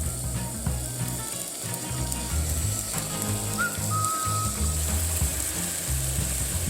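Darkened onions sizzle in a pan with a soft, steady frying hiss, quiet and continuous, with a faint brief whistle-like tone partway through and no talking.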